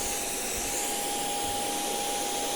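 A Heifer cordless stick vacuum cleaner runs on carpet with a constant loud whooshing motor roar and a steady high whine, unbroken from start to finish with no talk.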